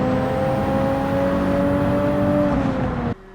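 Gran Turismo 7 car engine hums steadily at a high, even pitch with a slight dip near the end, then cuts off abruptly, loud and with no talk.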